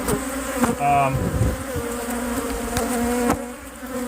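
Dense buzzing of many honeybees at a hive fills the air close by, a steady hum with individual insects passing and occasional soft knocks.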